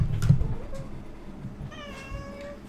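A cat meows close to the microphone, a couple of drawn-out tonal calls, the last one clear and rising, with faint background noise and no talking.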